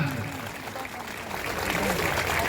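A crowd at a political rally claps to welcome a speaker onto the stage, a broad, rushing wall of applause that swells slightly toward the end, with faint voices underneath.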